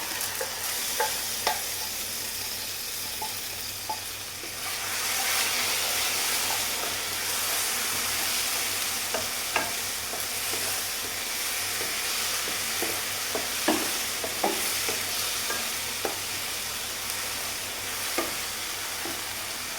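Continuous hissing sizzle of blended tomato puree cooking in a pan, growing louder partway through, with intermittent spoon scrapes and taps; no voices.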